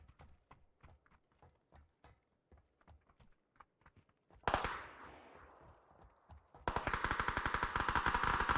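Gunfire: a series of light ticking steps, then a sudden burst of rapid automatic fire that fades, followed by a louder, sustained stream of rapid shots to the end.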